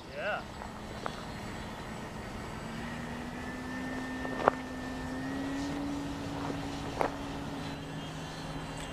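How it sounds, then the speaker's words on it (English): Dynam Waco radio-controlled model biplane flying in safe mode, a steady propeller-engine drone at moderate distance holding through the clip with a few brief clicks, no talk over it. "Gosh, I love this airplane."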